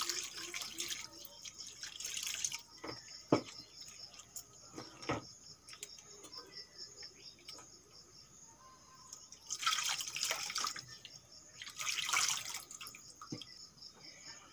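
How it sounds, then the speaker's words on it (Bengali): Water pours into a pot of egg and potato curry in three separate bursts of splashing. Quieter stretches with faint drips and knocks fall between them. "एखन दिए देव जल।"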